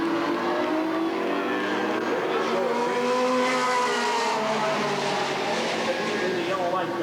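Super stock race cars on an oval track at Redwood Acres Raceway in 1989 rise in pitch as they accelerate together, a dense engine drone from a distance with an announcer talking over it.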